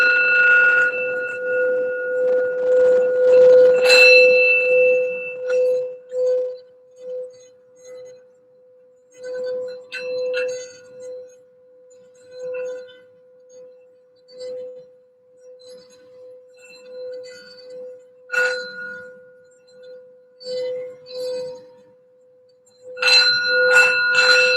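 A small bell or singing bowl struck several times, its steady ringing tone sustained through the whole stretch with fresh bright strikes near the start, middle and end, close and clear with no talking.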